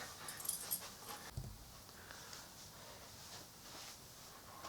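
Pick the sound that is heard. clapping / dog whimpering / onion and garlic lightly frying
dog whimpering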